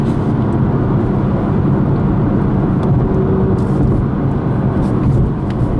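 A 2017 BMW M2 coupe in Sport Plus mode accelerates hard, its engine a loud, steady, throaty drone heard from inside the cabin with road rumble underneath.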